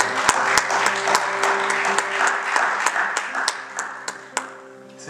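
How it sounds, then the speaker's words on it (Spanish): An audience at a live artist's show applauds warmly, a dense wash of clapping with some distinct individual claps standing out, fading toward the end while music tones linger underneath. "Fuerte aplauso."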